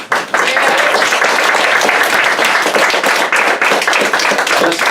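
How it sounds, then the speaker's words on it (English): People at a team meeting give a round of applause, sustained loud clapping that starts abruptly and keeps a busy, even texture throughout. "Give a round of applause."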